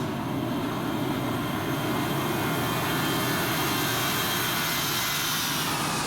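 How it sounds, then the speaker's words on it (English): A simulated Airbus A321 jet in X-Plane, voiced by the FTSim sound pack, makes a flyby with a loud, continuous engine roar and a faint whine that shifts gently in pitch as it passes. "Let me do a quick flyby here."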